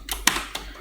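Enter key struck on a laptop or desktop computer keyboard while entering a Google Finance ticker, a few light clicks with one sharper press standing out, close and clear with no talk.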